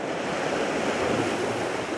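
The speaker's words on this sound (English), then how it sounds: "a little bit of the curve with the waves crashing in" Sea waves breaking along a curving shore at Belhaven at sunrise, a steady wash of surf with wind buffeting the microphone, continuous and fairly soft.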